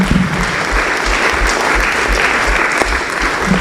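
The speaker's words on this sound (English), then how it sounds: "And a big clap for the 4 presenters" Audience at a university public lecture gives sustained, fairly loud applause for four presenters, dense clapping that holds steady, with a faint low hum beneath.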